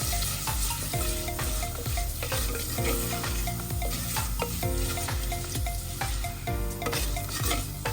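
Onions and spices sauté in a clay pot for a fish curry, a loud, dense sizzle that runs throughout with frequent stirring knocks.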